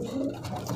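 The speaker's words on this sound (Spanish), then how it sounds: "La paloma, quiero mostrarle a papá también." A pigeon coos nearby in a soft, low, rolling call, clear against a steady background hum.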